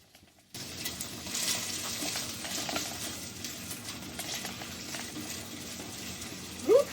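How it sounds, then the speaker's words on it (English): Onions dropped into hot olive oil in a pan give a steady, close sizzle that begins abruptly after a brief silence and holds evenly, with a short squeak near the end. "the pan is hot, right? So in goes our onions, right in."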